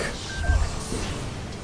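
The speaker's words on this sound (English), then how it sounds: "There's my alarm to go pick up my little sister." An alarm sounds briefly as a thin, steady beeping tone over loud background noise during a play session of the game Elden Ring, lasting only a moment.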